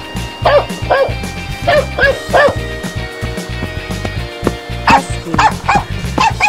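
A dog barks repeatedly, short yipping barks in quick pairs and clusters, loud and close over a rumbling, running-water background, with some voice-like sounds mixed in.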